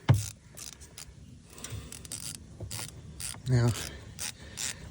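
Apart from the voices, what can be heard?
ratchet removing oil drain plug on Can-Am HD7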